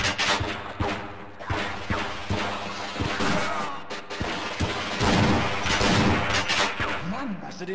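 Gunfire in the video game Half-Life cracks out repeatedly, sharp bursts and booms scattered irregularly over a busy mix of game noise and speech.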